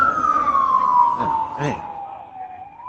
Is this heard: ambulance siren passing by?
yes